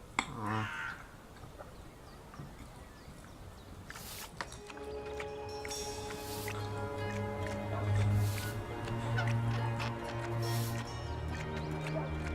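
A bird squawks in the video game Dreamfall Chapters, with harsh caws early on, then music and other game sounds build beneath them.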